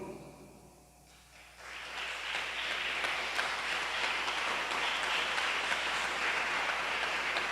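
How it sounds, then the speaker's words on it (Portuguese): A church congregation bursts into applause after a quiet moment, building quickly into a dense, sustained roar of clapping that holds steady, heard from within the room. "comunique um aplauso de gratidão a Deus"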